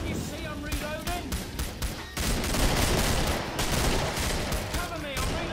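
Rapid gunfire from a weapon in the co-op shooter Killing Floor: dense, loud bursts of shots in quick succession, broken by brief pauses, then a heavier sustained volley.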